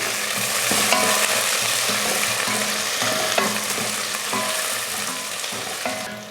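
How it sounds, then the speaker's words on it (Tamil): Garlic cloves, green chilies and curry leaves sauté in hot oil in a home kitchen, giving a loud, steady sizzle with stirring scrapes throughout and no talking. "பூண்டுப்பல் ஒரு 4-5 சின்னதாக கட் பண்ணியிருக்கேன், 3 பச்சை மிளகாய், கொஞ்சம் கருவேப்பிலை. இதை வதக்கி விட்ருவோம்"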